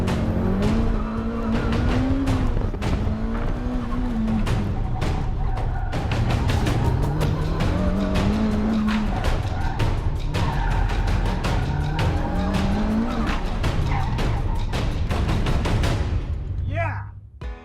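A drag race car on a timed run at a speed stop event, engine roaring loud and continuous with rising pitch sweeps through gear changes and tire squeal, crowd or commentary noise mixed in, fading at the end.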